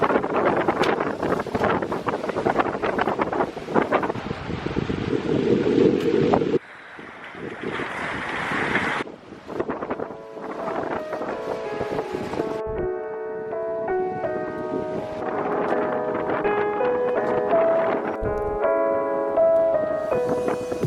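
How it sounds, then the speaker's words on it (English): Strong wind buffeting a sailboat at sea off Puerto Rico, with steady gusty roar, water wash and rattling rigging, plus brief tonal whistles and clanks, close and continuous with no talking. "Wind's really picking up too."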